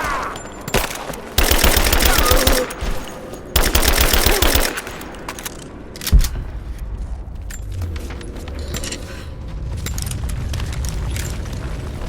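Automatic gunfire in the video game Rise of the Tomb Raider, two dense rapid bursts of about a second each, then a heavy boom and scattered softer shots over a low rumbling background.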